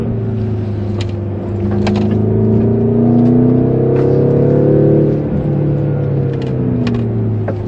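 The V8 engine of a BMW X5M F85 revs in a deep, steady rumbling drone that swells to a louder peak midway and then eases off, heard from inside the vehicle.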